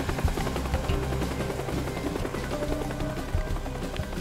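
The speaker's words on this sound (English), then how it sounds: "That doesn't seem to deter the old chopper." A helicopter in the video game Teardown keeps up a steady rotor thump and engine drone throughout, loud and continuous, with no talk over it.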